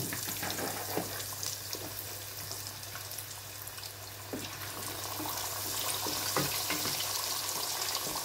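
Yam pieces fry in oil tinted with turmeric, a continuous crackling sizzle with scattered pops, steady and moderately close, with a low hum underneath and nobody speaking.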